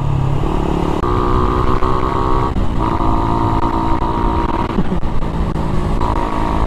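A Raider 150fi motorcycle with a stock ECU rides along a road on the Marilaque route, its engine droning loud and close with shifting revs, a brief dip and change of pitch midway, plus steady wind noise throughout.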